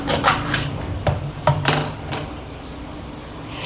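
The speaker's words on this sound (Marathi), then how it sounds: "शेवग्याच्या शेंगा मी आता कट करून घेते।" A kitchen knife cuts drumsticks (moringa pods) into pieces, giving a series of sharp clicking chops and scraping rasps, close and fairly loud at first and then fading to quieter rubbing.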